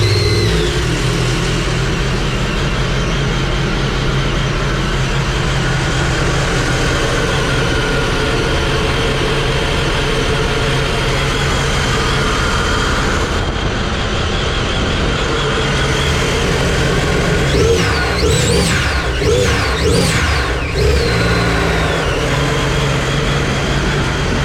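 A Stage 2 Sea-Doo RXP 300 personal watercraft with stock exhaust runs loud and steady up close, its engine droning continuously, with several short rising revs and blow-off valve whooshes near the end.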